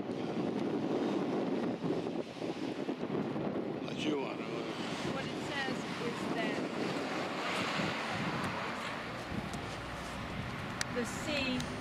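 Sea surf at Ushuaia, Argentina, where the Atlantic and Pacific meet, washes in a steady broadband rush. Gusty wind buffets the microphone throughout, and no one speaks.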